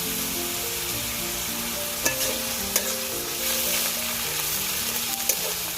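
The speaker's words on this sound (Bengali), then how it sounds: "রসুন ভালো করে ভেজে নেবো যাতে এতে কাঁচা গন্ধটা না থাকে" Garlic and ginger-garlic paste fry in oil in a pan for an egg korma, a continuous bright sizzle with light stirring scrapes and a few sharp pops, close and unbroken by speech.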